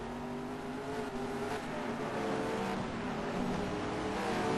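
Race car engine from a touring car racing game at Eastern Creek, a sustained droning whine that builds slightly in loudness as the car drives past, fairly quiet and steady with no talk over it.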